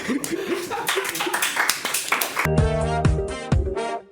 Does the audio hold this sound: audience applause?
yes